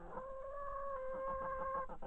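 A rooster crows in one long drawn-out call, close and loud, with a few short clucks at the end, in a henhouse with hens.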